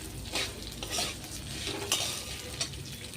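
Metal spoon scraping and stirring boiled chickpeas and mixed lentils in a frying pan, with repeated scrapes over a faint background sizzle.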